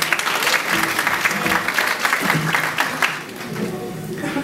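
Audience applause for a singer at a live music show in Bellavista, Chile: dense, steady clapping from a crowd, fairly close and loud, with a slight dip near the end and no talk over it.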